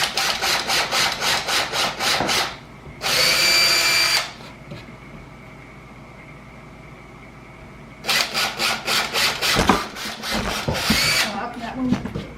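A power drill drives Spax screws into wood while a wooden charcuterie board is built, with two bursts of rapid, loud whirring and grinding and a quiet pause between them.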